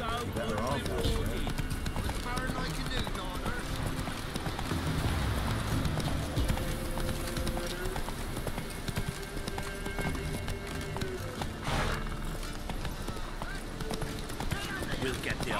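Roach, a horse in the video game The Witcher 3, gallops with steady, rapid clip-clopping hooves that continue throughout. Game voices talk over the hoofbeats.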